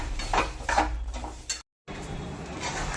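Spoon scraping and knocking in a pan while jaggery and ghee syrup is stirred for sesame laddoos, a few soft clinks and scrapes close by, broken by a brief silence.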